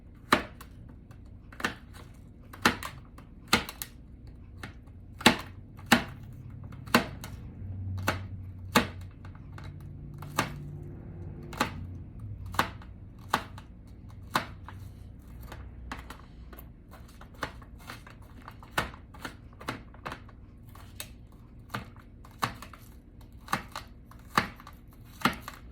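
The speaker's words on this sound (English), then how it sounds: "I'm chopping up my onions." Knife chopping onions very finely on a cutting board in a home kitchen, a steady series of sharp close taps with short pauses, mostly alone with faint background.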